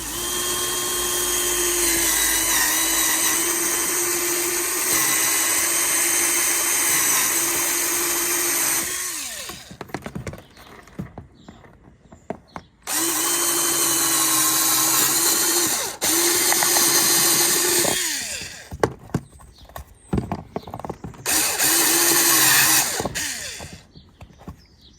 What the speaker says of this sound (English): then we'll get going and drill the holes